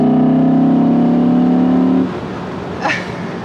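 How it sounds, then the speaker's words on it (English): An Audi R8 V10 Performance 620 PS sports car engine holds a loud, high revving note for two seconds, then drops off abruptly, followed by a brief faint whoosh. "You can hear the engine."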